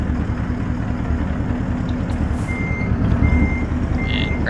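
A truck in American Truck Simulator, a Rezbilt, backing up to grab its load: a steady series of high reversing beeps over the low rumble of the idling diesel engine, close and loud, with no talk.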